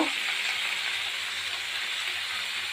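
Finely chopped ingredients seasoned with salt fry in a hot pan at home, giving a loud, continuous sizzling hiss that stays even and close throughout with no talking.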